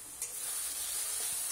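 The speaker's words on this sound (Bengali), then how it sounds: "এবার এগুলোকে নাড়াচাড়া করতে থাকবো, মশলাটা কষতে থাকবো।" Powdered spices (salt, turmeric, cumin, coriander and Kashmiri chilli) frying in a pan while being stirred, a soft, steady sizzle and hiss with a few faint scraping strokes, alone and fairly quiet.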